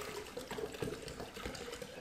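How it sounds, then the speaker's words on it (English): Tap water is poured into a container on a lab bench, a faint, soft splashing trickle that runs steadily for about two seconds. "we'll get some normal tap water. We'll add a bit of that in there."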